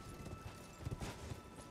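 The spectral steed Torrent gallops in the video game Elden Ring, its hooves beating a quick, fairly even clip-clop under a steady background wash, faint and alone.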